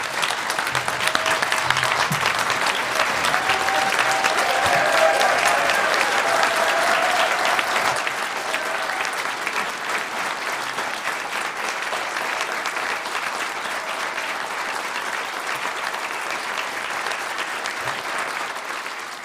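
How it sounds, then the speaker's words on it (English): A large hall crowd at Amherst Town Meeting applauds in a dense, sustained wash that eases slightly partway through and carries on for nearly twenty seconds. "Applause is not welcome in Amherst Town Meeting."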